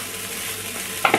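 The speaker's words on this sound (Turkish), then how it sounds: "pirincimiz de böyle kavruldu" Rice toasting in a pan with salt is stirred, a close, steady dry sizzle and scraping that turns to a couple of louder scrapes at the end.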